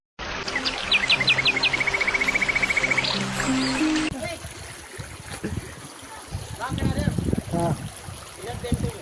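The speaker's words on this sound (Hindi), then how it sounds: "पानी की आवाज़ आप सुन रहे हैं, पानी की आवाज़ में।" A waterfall pours down a mountainside in a steady rushing wash. Birds chirp brightly over it at first, then a person talks over the water.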